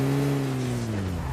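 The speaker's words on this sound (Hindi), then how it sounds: "गाड़ी गाड़ी गाड़ी।" A car engine in a squad-versus-squad shooter video game drones close and steady, its pitch sliding slowly downward as it approaches through the short moment, with no talking.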